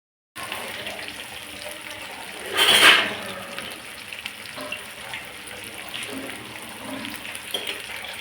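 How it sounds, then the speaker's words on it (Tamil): Prawns fry on a tawa with a steady low sizzle, rising to a louder hissing burst for about a second midway before settling back to a soft, even crackle. "எறா பார்த்திங்கன்னா நல்லா ஃப்ரை ஆகி நல்லா முடிஞ்சிச்சு"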